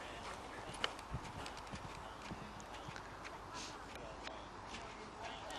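Faint hoofbeats of a horse clip-clopping at a distance in a show jumping arena, under a low wash of outdoor noise and someone talking.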